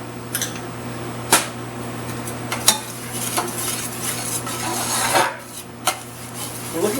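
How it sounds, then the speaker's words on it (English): Spoon stirring flour into a butter roux in a metal pot, with close scraping and rubbing strokes broken by sharp clinks of utensil on metal over a low steady hum. "give it a little stir, fully incorporate it"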